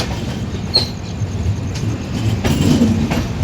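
Train rolling into Jammu Tawi railway station, a continuous loud rumble of wheels and carriages with faint clicks and brief squeals, heard from on board or nearby, with no voices.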